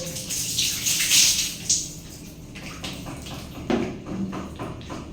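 Water poured over someone during a cold night shower, a broad splashing rush that swells and fades in a few close bursts, with softer trickles and small knocks between them.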